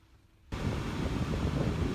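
Heavy rain falls outside a Nissan Navara, a dense, loud, steady hiss and patter that begins suddenly after a quiet half second and then carries on unbroken with no voices.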